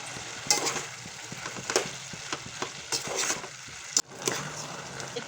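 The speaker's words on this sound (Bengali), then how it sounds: "আমি একটু নাড়াচাড়া করে ভেজে নেব।" Boiled potatoes fry in mustard oil with chilli and cumin, a soft, steady sizzle broken by several sharp clacks and scrapes of a spoon stirring the pan, fairly quiet and close.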